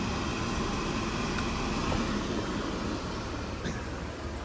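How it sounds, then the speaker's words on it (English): The air-conditioning pump of a 1992 Mercedes-Benz W124 running on high while the car overheats, a steady broadband mechanical whir with faint ticks. "You hear the AC pump going."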